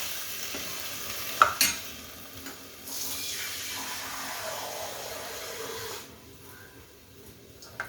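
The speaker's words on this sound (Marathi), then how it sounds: "आता पाणी टाकायचं वरून आता हे भाज्या शिजायला" Water poured into a pan of mixed vegetables cooking on the stove for a Bhogi meal: a sharp clink, then a sustained hiss and rush of liquid hitting the hot pan for several seconds before quieting, with no talk.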